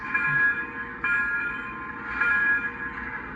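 A model train's steady electronic bell tone rings continuously with faint repeated strikes, fairly loud and close, with a soft hum underneath.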